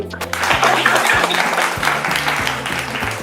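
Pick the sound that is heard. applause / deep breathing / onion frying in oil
applause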